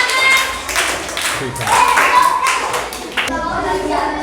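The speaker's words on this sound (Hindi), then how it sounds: "राजेश कुमार के लिए एक ताली होना चाहिए" A class of students claps for a correct answer in a maths quiz, a burst of quick scattered hand claps from several people, fairly loud and close, with a voice speaking briefly over it.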